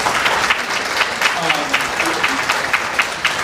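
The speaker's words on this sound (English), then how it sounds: "let's give Jen and Will a big round of applause" An audience at a talk on frontotemporal disorders gives the speakers a big round of applause, steady clapping with a faint voice and some tonal sound underneath.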